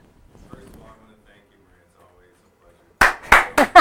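An audience claps after a talk on the archetypal feminine and entheogenic journeys, a burst of applause that starts abruptly after near silence and comes in several loud surges near the end.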